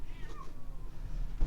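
A cat gives a single faint, short meow outdoors in falling snow, heard close but quiet over soft background noise.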